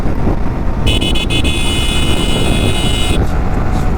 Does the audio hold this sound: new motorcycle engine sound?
yes